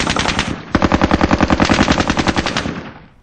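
Rapid bursts of RPK light machine gun fire in a Soviet-Afghan War tactical shooter, a loud sustained string of sharp rhythmic shots with a brief pause before a second long burst.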